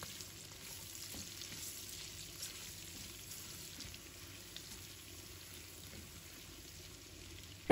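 Pork belly stir-fries in a pan with ginger and garlic, a steady close sizzle of hot fat that runs evenly throughout, with no speech.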